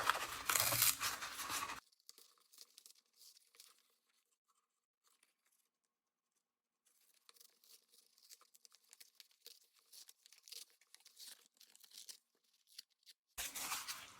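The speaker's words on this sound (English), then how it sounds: "pull off the backing of this cardboard" Backing is peeled off a piece of cardboard in short, quiet bursts of tearing and crinkling, with long near-silent pauses between pulls.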